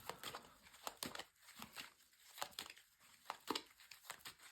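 Tarot cards being shuffled by hand, a close run of soft crinkling riffles and flicks in irregular bursts, quiet and with no voice over it.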